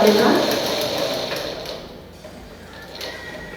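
A sewing machine stitches around the edge of a fabric patch during mending, a close steady mechanical whir that gradually fades, with a voice talking over it.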